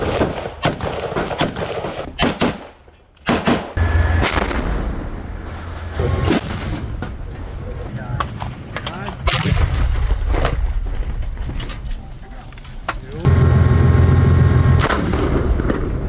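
Heavy gunfire from a ground operation in the war in Gaza, loud continuous volleys and booming blasts layered over one another, sustained throughout with sharp individual shots and deeper thuds.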